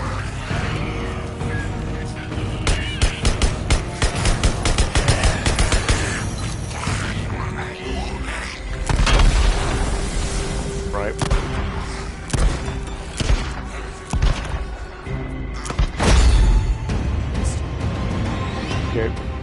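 Repeated gunfire in the video game Days Gone, irregular sharp shots and bursts mixed with thuds, impacts and mechanical game effects, loud and continuous over the whole stretch.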